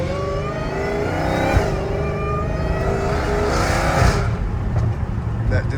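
A Dodge Challenger Hellcat Redeye with its 797 hp engine revs hard and loud, a snarling roar that swells and falls in repeated pulls, with a voice faintly audible underneath.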